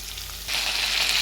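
Onion dropped into hot oil in a pan: a quiet hiss jumps into a loud, steady frying sizzle midway through, heard close with no voices.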